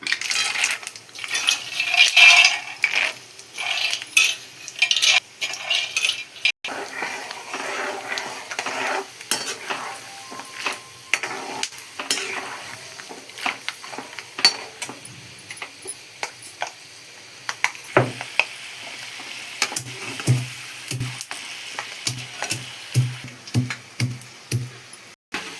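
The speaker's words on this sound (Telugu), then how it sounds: "ఈ పల్లీలు డీప్ ఫ్రై కోసం ఇప్పుడైతే ఇంకా పల్లీలు వేస్తున్నాం." Peanuts deep-frying in hot oil for an okra and peanut stir-fry, giving a steady crackling hiss broken by frequent sharp metallic clinks of a utensil against the pan, with no voices.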